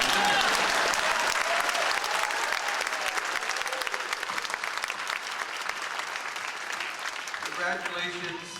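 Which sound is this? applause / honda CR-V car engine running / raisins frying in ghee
applause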